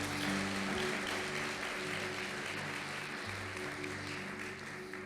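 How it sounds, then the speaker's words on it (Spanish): A church congregation applauds steadily for several seconds, the clapping fairly faint and fading slightly toward the end over a low background hum. "Denle un aplauso a los amados."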